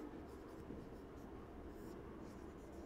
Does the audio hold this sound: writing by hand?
yes